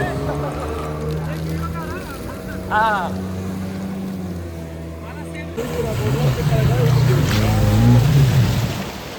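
A speedboat ride off Goa: the motorboat engine drones steadily and rises louder in the second half, with wind and water rushing past as people talk and call out over it.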